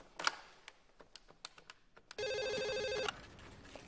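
An old telephone bell rings in a short burst of electronic trilling after several sharp clicks, fairly close and clear, in a scene from an Egyptian drama series.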